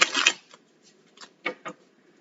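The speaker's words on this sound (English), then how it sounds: "Let me shuffle real quick." Tarot cards shuffled by hand during a weekly reading: a dense papery riffle at the start, then a few softer separate flicks and taps of the deck, close and fairly quiet with no voice.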